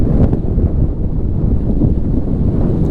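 Strong wind gusting past a sailboat at sea, sustained in the twenties of knots, roars as heavy low buffeting against the microphone, loud and unbroken throughout with no voices.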